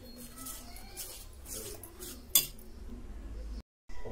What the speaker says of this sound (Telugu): మనం ఇలా వాటర్ వేసుకొని కలుపుకోవాలి